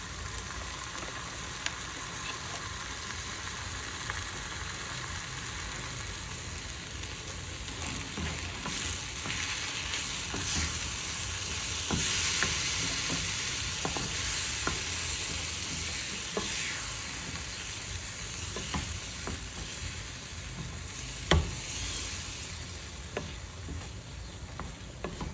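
Onions sizzle in a pan with cooking cream for a quiche filling, a steady close frying hiss running throughout with occasional scrapes and knocks of a spoon stirring.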